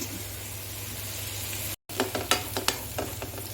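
Onion frying in a pan gives a steady close sizzle, broken by a brief cut, then resuming with sharper crackles and scraping stir strokes; no one speaks.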